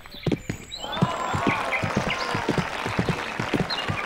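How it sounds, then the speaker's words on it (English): Statues applauding inside a video game: a run of sharp, evenly spaced claps, fairly close and steady, with faint electronic tones in the background. "Applaud me, you statuesque fools."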